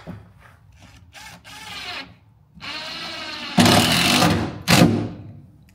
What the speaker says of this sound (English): Throwing in the final screws.